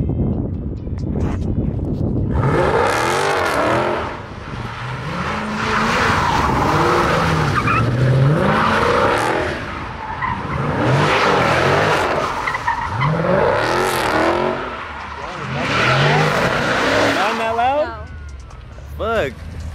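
Dodge Charger and Challenger 392 Scat Pack Widebody muscle cars drifting, with loud repeated tire squeals and roaring V8 engines in long sweeping bursts, and people talking over the noise.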